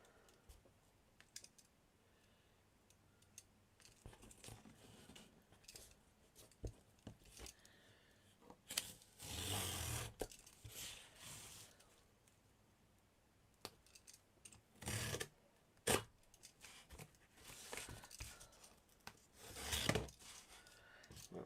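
Craft material for a miniature diorama is cut at a table in short bursts of crisp snipping and clicking, separated by quiet pauses with faint handling noise.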